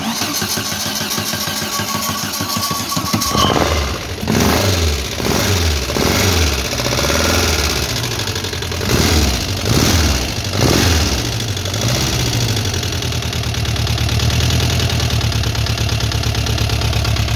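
An air-cooled VW Type 4 engine in a Beetle cranks briefly, fires on its first start after rebuild, and settles into a loud, steady, lumpy idle with a throbbing low rhythm right up close.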